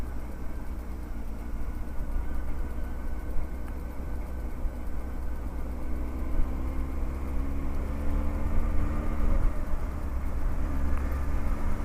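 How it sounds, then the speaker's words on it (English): A Honda Hornet 900 motorcycle engine idles with a steady low rumble, constant and close, with no talking over it. "I need to knock 200 or 300 revs off of the tick over for sure."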